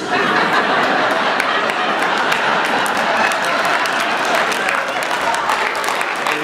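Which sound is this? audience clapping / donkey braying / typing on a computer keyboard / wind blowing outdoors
audience clapping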